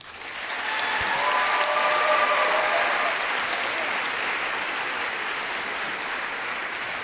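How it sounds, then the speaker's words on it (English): Graduates at a Wootton High School commencement applaud their parents, a broad, sustained wash of clapping from a large crowd that swells quickly and holds steady, with faint voices mixed in. "Graduates, you need to applaud your parents"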